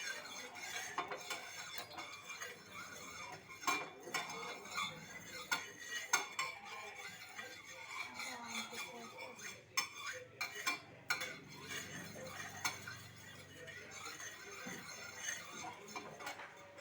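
Oil being stirred and tossed in a pan for an omelette, with light scraping and clinking of a utensil against the metal in an irregular rhythm, fairly quiet throughout.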